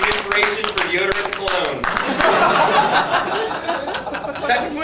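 An audience at a comedy roast claps and cheers, loud and close, mixed with scattered chuckles and whoops, while a voice carries on talking through the applause.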